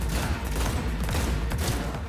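Dense, loud volley of video game gunfire, rapid overlapping shots crackling continuously without a pause.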